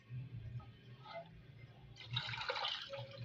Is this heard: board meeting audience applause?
no